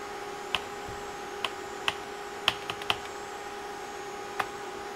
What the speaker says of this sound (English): Okay, the keyboard is working,